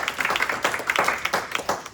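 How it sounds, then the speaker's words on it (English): Applause from an audience for a speaker at a talk on IP law, writers' contracts and copyright: a dense, steady patter of many hands clapping fairly close for a couple of seconds. "Thank you very much for the applause"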